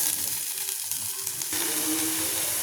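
Ridge gourd peel and cumin sautéing in hot oil in a pan, a close, loud continuous sizzle that jumps brighter partway through as the peel goes in.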